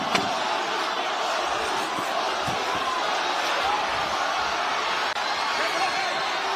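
A ringside clapper signals the end of a round at the Lomachenko vs Ortiz boxing bout, with a few sharp, isolated knocks over steady arena crowd noise and a commentator's voice.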